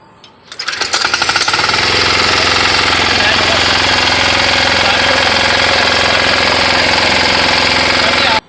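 A WEIMA 6HP diesel power weeder engine, center rotary model, is self-started and runs loud and close with a rapid hard-knocking diesel clatter. After a brief start-up it holds a steady idle, with faint speech beneath it.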